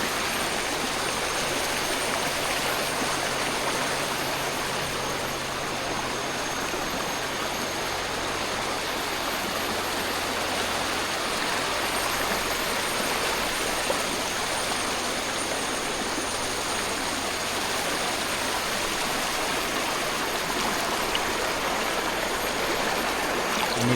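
Steady, continuous rush of a forest stream at Hutan Lipur Ulu Licin, Beruas, Perak, flowing clear water close by, loud and unbroken for the whole stretch with no voices.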